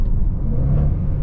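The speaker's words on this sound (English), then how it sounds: "The transmission is very nice when you're using the paddle shifters. It blips the throttle," Supercharged V8 of a 2024 Jaguar F-Pace SVR blipping the throttle on a paddle-shift gear change, a short, loud, steady low engine rumble heard from inside the cabin with no talk.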